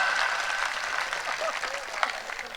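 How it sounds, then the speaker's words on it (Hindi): Clapping from an audience at a live Hindi comedy show, a steady dense patter held throughout at moderate level, with faint voices mixed in. "अगर आनंद आ रहा तो एक बार ताली बजाओ सारे लोग।"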